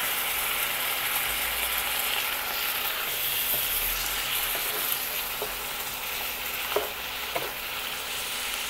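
Sliced mushrooms and vegetables sizzle in a hot pan beside chicken and sweet peppers, a dense continuous frying hiss with occasional light clicks and scrapes of stirring, fairly close and steady throughout.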